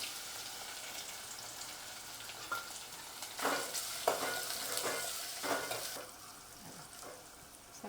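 Banana peels sauté in hot oil with cumin, fennel and asafoetida, giving a steady sizzle with brief stirring scrapes and clinks from about the middle onward. No voices.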